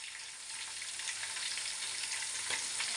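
Chopped ginger and green chilli frying in a pan, a dense, continuous sizzle that holds steady and close throughout, with no voices.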